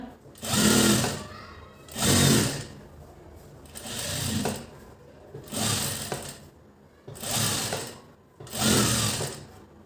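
Sewing machine stitching a piping strip, running in five loud bursts of a second or so each, with short pauses between runs.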